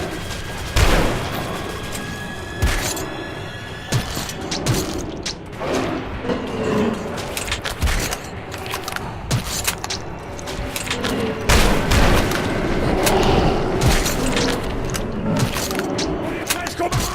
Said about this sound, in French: Économise tes munitions, Artyom!